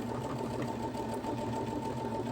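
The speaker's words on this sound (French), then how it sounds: "vous plantez votre aiguille et vous laissez faire votre machine" A Brother Innovis F410 computerized sewing machine stitching through fabric gives a steady, continuous mechanical whir with a fine rapid needle rhythm. It is close and even throughout, with no talking.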